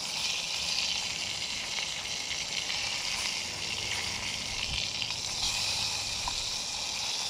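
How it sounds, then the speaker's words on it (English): Cheap bacon sizzles and pops hard in an ultra-thin cup over a high-heat ultralight backpacking camp stove, a steady close, dense hiss with scattered sharp crackles throughout. "We're cooking bacon in a high heat camp stove on an ultra thin cup."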